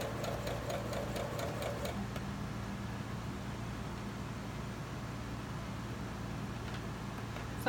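Sewing machine stitching fabric for a hair scrunchie, a steady close mechanical hum with rapid needle ticking in the opening two seconds, then a continuous drone.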